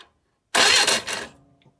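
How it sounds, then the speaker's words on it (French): A 1955 Citroën 2CV AZ engine cranks over on the starter without fuel, a loud mechanical churning burst lasting under a second, then fading quickly into quiet. "Le moteur tourne déjà."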